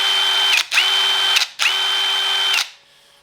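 DeWalt drill with a Pozi bit driving a screw: three close, loud whirring bursts broken by brief stops, each ending with a clicking catch as the bit slips and bites.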